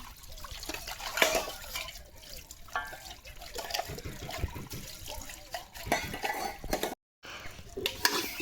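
Small dishes being washed by hand with running water at a village home in Bangladesh, with splashing, trickling and clinks of utensils coming and going close by, the flow pausing briefly near the end.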